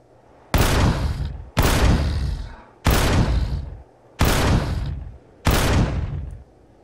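Five loud, evenly spaced bursts of gunfire, each about a second long with a decaying tail, as a creature is shot in the Empyrion video game; no talking.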